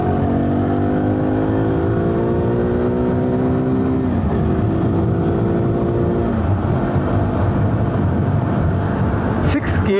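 Wind noise while riding a KTM 390 Duke motorcycle on a windy day, a constant loud roar of rushing air buffeting the helmet over the droning single-cylinder engine, whose pitch rises and then drops with a gear change.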